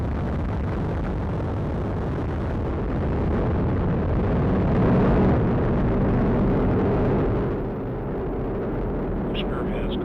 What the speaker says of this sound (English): Liftoff of the United Launch Alliance Atlas V rocket carrying the NROL-52 mission for the National Reconnaissance